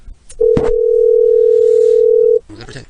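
A steady telephone dial tone sounds after a call disconnects, holding unbroken for about two seconds, with a brief click at its start and a voice coming in right after it stops.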